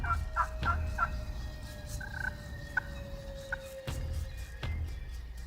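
A wild turkey tom gobbles again and again about 20 yards away during a spring turkey hunt, sharp bursts ringing out clearly over quiet outdoor background.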